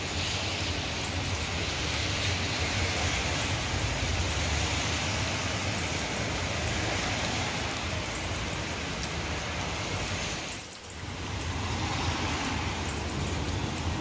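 Heavy rain pours steadily at a work site in Kuwait, a dense continuous hiss of drops drumming on surfaces close by, with one brief dip in loudness near the end.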